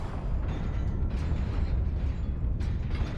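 Incendio fire spell cast in Hogwarts Legacy: a dense, loud rushing burst of flame with crackling mechanical texture, with flares around one and two and a half seconds, no voices.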